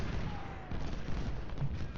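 Artillery and massed gunfire rumble continuously in the Civil War strategy game Ultimate General Civil War, a dense low booming barrage with no pauses.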